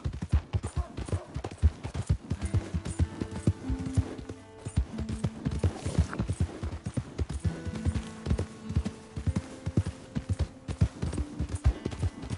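Horse hooves in the video game Red Dead Redemption 2, a rhythmic clip-clop of a horse walking and trotting, close and clear, with faint game music beneath and no talk.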